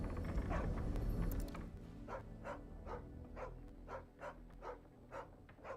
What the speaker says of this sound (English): the dog probably wouldn't be barking at it